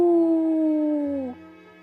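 A human voice imitates a distant coyote howl: a single sustained, slightly falling 'ow' tone lasting over a second, then fading out.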